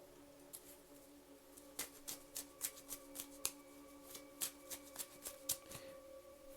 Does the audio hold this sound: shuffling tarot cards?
yes